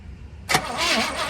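A 1967 Chevy barn find engine catches with a sharp burst as it starts, then runs on in an uneven idle, loud and close.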